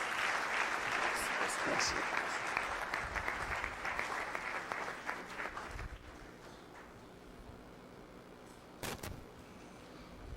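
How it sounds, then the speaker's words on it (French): A church congregation applauds to welcome the pastor to the pulpit. The clapping is loud and sustained at first and fades out after about six seconds, with a voice briefly speaking near the end. "Alors qu'il se lève, nous acclamons pour la gloire de notre Dieu."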